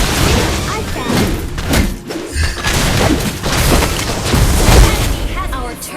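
Explosive booms and thuds from a Mobile Legends match as a turret falls, heavy low blasts layered with game effects and music, loud and continuous, with a game announcer voice speaking over them.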